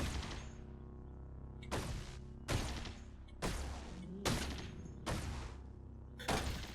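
Chain gun fire in the game Caves of Qud: seven heavy, booming bursts at a steady pace, each with a long rumbling tail, loud and alone with no voices.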